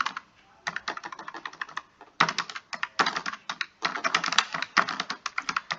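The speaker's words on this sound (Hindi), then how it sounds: "मैं फटाफट टाइप कर लेती हूँ, कुछ भी टाइप कर लीजिए।" Fast typing on a computer keyboard while filling in a spreadsheet bill, with bursts of rapid, close key clicks separated by short pauses.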